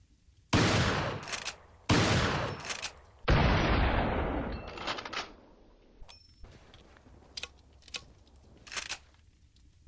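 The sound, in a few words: 12-gauge pump-action shotgun firing in video game Resident Evil 4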